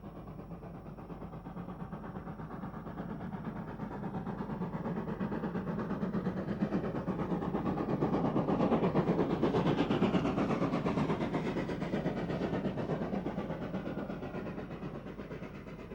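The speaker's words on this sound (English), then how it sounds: "Red and grey liveried 2921 storms out of Frank shaft." A South African Class 15F steam locomotive, No. 2921 in red and grey livery, storms out of a mine shaft, a steady heavy rumble of working engine and rolling wagons that swells to a peak and slowly fades.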